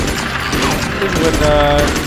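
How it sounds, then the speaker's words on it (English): M16 automatic gunfire in the video game Magicka: a dense, rapid burst of shots that runs steadily throughout, with players talking over it. "M16 comes in handy"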